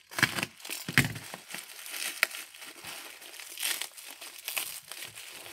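Packing material inside a mailed parcel crinkles and rustles as it is pulled open, with loud crackling bursts up close that then become softer, intermittent crumpling.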